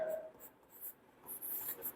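Marker or chalk writing on a board during a physics lesson on resistors, heard as faint scratchy strokes in short bursts across two seconds, quiet and close with no talk.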